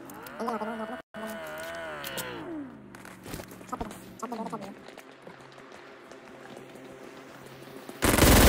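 Gunfire in PUBG Mobile: scattered sharp shots and short bursts crack amid game noise and some voice-like tones, with a loud blast of noise at the very end.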